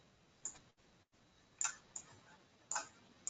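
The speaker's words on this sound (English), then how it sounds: "We hear some clicking in the background." Sharp clicks in the background of an online meeting, four or five scattered taps, faint, with no talk over them.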